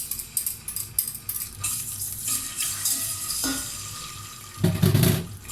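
Tomato paste sizzles and fries in oil in a pot, with a spoon scraping and stirring in bursts and a louder sputter near the end.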